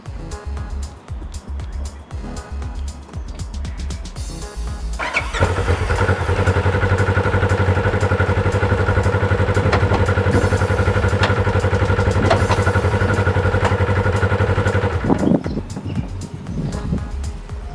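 A side-by-side UTV engine starts and runs steadily for about ten seconds at a loud, even idle, with a belt tuner fitted, then cuts off abruptly, leaving quieter background noise before and after.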